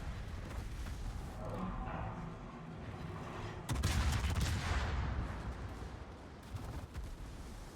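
Enemy gunfire aimed at the player's ship in a naval battle game, rolling volleys of cannon-like booms and crackling shots, swelling into a heavier burst midway, with a faint voice underneath.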